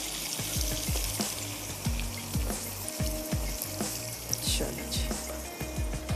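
Masala and potatoes frying in a pan as about a quarter cup of water is poured in, a steady close sizzle with bubbling and repeated low clinks and taps of a spoon against the pan.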